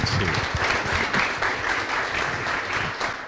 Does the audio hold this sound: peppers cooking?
no